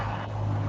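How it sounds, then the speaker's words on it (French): Steady road traffic rumble heard from inside a home, a continuous low drone with a faint hum, fairly loud and unbroken across the short moment with no talking. "C'est chez qui qu'on entend toute cette circulation et que ça tape?"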